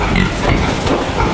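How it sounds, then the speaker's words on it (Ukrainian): A piglet squeals loudly and continuously while being weighed, a harsh, close, sustained scream that fills the moment. "зважили одного порося самого здорового з клітки і кричать він"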